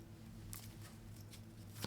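Tarot cards being shuffled by hand in soft, quick riffling bursts, a few brief rustles spread over a couple of seconds, close but faint against a quiet hum.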